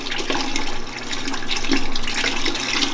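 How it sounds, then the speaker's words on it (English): Water gushes steadily out of a tankless water heater's flush hose during a descaling flush, a continuous loud rushing flow with small fluctuations and no talk. "That's good flow coming out of this."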